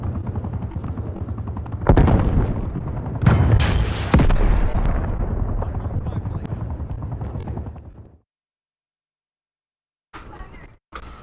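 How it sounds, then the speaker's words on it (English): In the Call of Duty Cold War video game, loud gunfire bursts and booms sound over a rumbling helicopter-like drone for about eight seconds. Then comes a silent gap and short bursts of game noise. "Hostile helicopter inbound."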